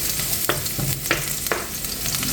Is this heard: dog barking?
no